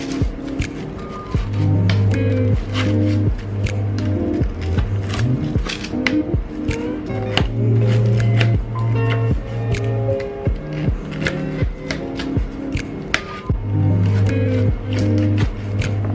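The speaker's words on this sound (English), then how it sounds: "I'm going to cut this into small pieces." A knife cuts through crispy fried chicken katsu, producing a rapid series of sharp crunching cracks and taps, close and fairly loud over a steady low hum.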